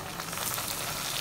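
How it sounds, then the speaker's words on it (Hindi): Potato chicken pockets frying in hot oil on a stovetop, a dense steady sizzle heard close up with no voices. "पॉकेट अच्छे से फ्राई हो रहे हैं"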